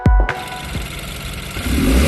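A turbocharged BMW F30 320i gives a loud, close burst of turbo spool and diverter valve flutter, a couple of sharp chattering pulses, then settles into a steady engine hum.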